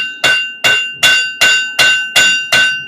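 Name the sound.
blacksmith hammering hot steel on an anvil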